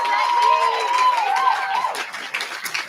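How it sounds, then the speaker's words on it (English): Audience applause and cheering for a sixth-place winner at a college forensics awards ceremony, a mix of clapping and high shouts and whistles from a crowd, dense at first then thinning. "Full claps, please"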